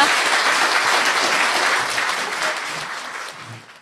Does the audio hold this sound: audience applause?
yes